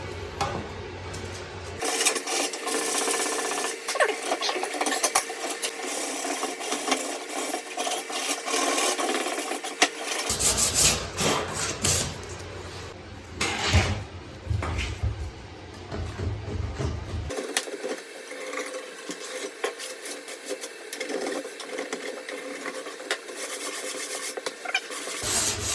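Hand sanding of a broken wooden piece before priming and painting: steady scraping strokes that run in long continuous stretches, close and fairly loud, with no talking.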